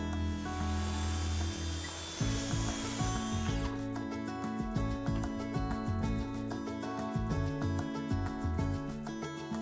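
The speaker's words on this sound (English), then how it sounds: "Now measure and cut your timber to size for the frame." Treated pine timber being cut to size for a garden bed frame, a near, continuous rough rasping and mechanical grinding with rhythmic pulses throughout, preceded by a brief hissing rush.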